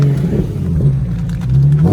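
A Range Rover's engine revs close by as the gas pedal is pressed, a loud steady low growl that swells and dips slightly over two seconds, with no popping.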